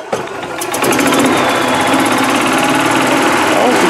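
A Club Car DS golf cart's small gasoline engine, fitted with a new ignition coil, fires up almost at once and settles into a loud, steady, buzzing run close by.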